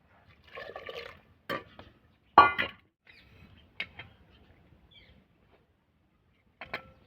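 Short bursts of liquid splashing and dripping into a pot, separated by quiet pauses, with a few light clinks near the microphone.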